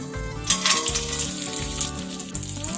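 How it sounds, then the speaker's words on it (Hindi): Dry fruits (raisins, cashews and almond pieces) roasting in ghee over a low flame, a soft, steady sizzle running under louder background music throughout. "अब इसे धीमी आंच पर अच्छे से रोस्ट कर लेना है घी के अंदर।"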